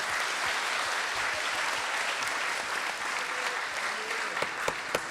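Delegates at a Model UN opening ceremony clap together in a dense, steady wash of applause lasting several seconds, with a few sharper individual claps standing out near the end.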